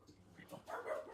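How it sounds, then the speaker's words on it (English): A dog barks a few times in the background, fairly faint and short, with soft muffled yips rising toward the end. "That's just my dog barking."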